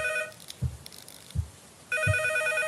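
A telephone rings in the horror game P.T., bursts of electronic ringing separated by soft thuds in a quiet hallway, loud and near.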